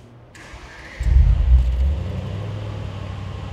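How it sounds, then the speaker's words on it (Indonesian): A Mercedes-Maybach SL 680 V8 cold starts with a brief whirring crank, then a deep rumbling flare that settles into a smooth, steady low idle. "Nah, ini cold start sekarang halus suaranya. Tapi tetap ada deruman V8-nya sedikit samar-samar terdengar."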